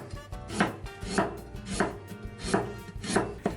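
A knife slices a stub of ginger into thin strips on a cutting board, about six crisp, evenly spaced chops that are close and clear with no talking.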